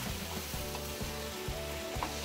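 Paneer bhurji fries in a pan and is stirred, a soft continuous sizzle under a low, regular rhythmic thudding that repeats roughly every half second.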